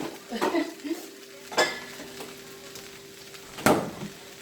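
A spatula chops and scrapes scrambled eggs in a hot pan for chicken fried rice, three sharp metallic knocks over a soft sizzle, no talking.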